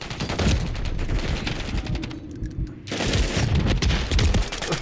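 Rapid gunfire in Modern Warfare gameplay, dense bursts of shots rattling for most of the stretch with a brief lull in the middle before the firing resumes loudly.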